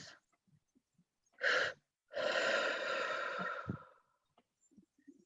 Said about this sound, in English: In through our nose.